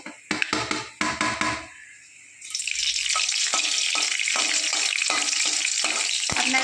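Whole garam masala goes into hot oil, followed by grated ginger, producing a few sharp clatters and bursts and then a loud, continuous sizzle. Occasional clinks from stirring punctuate the steady frying noise.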